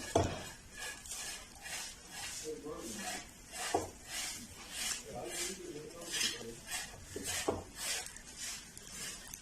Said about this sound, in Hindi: एक और चम्मच ले लिया, उसकी मदद से हम इसको कट कर लेंगे